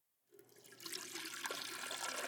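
Water pours onto an object in a quiet ASMR setting, starting abruptly after a brief silence and building into a steady close splashing stream with no voice.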